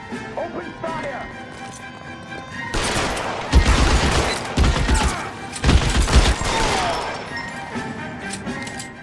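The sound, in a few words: gunfire in L.A. Noire video game shootout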